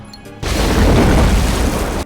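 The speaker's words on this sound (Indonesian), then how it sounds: "Ronnie mengaktifkan alat pemicu mercon, yaitu untuk menghalangi helikopter yang hendak menjemput Victory" Firecracker charge set off by a remote trigger in a video game to block a rescue helicopter, bursting suddenly after a brief quiet lead-in into a loud, sustained roaring blast that rumbles on to the end.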